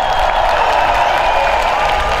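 A festival crowd applauds at the Strelka of Vasilievsky Island in Saint Petersburg, a dense, steady wash of clapping that holds at an even, loud level throughout with no break.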